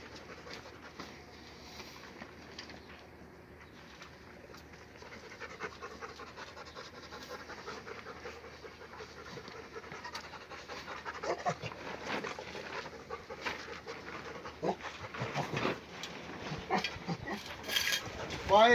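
Dogs pant outdoors on a hot day, rapid rhythmic breathing close by that grows louder over time, with pigeons cooing in the background and a few brief noises near the end.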